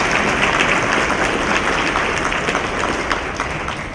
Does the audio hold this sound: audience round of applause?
yes